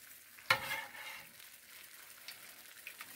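Battered Oreos fry in boiling oil, a faint, steady bubbling sizzle that opens with a brief sharp pop, quiet and close with no voices.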